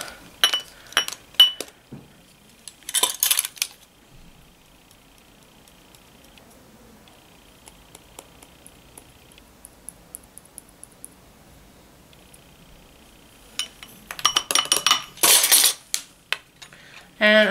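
Utensils stirring and clinking against a container of candle wax mix, with bursts of scraping and tapping at the start and end around a quieter stretch of faint ticks.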